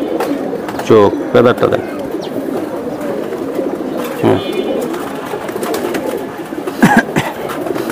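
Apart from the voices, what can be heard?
pigeons cooing, Gorra pigeons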